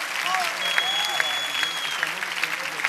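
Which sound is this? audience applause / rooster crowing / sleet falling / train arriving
audience applause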